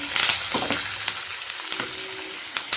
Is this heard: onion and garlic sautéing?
yes